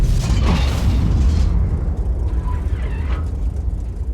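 Tank cannon shot in World of Tanks: a loud, heavy boom at the start with a long rumbling decay and steady mechanical engine drone beneath, fading over a few seconds.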